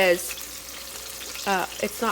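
Oil crackles and sizzles steadily at a moderate level as gluten-free chicken fries, with short bursts of speech cutting in near the start and end.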